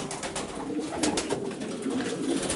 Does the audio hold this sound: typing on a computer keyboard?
no